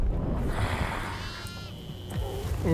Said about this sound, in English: I found the goat.